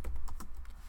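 Computer keyboard keys tapped in quick, uneven bursts, close and fairly clear, a run of clicks lasting about a second with no voices.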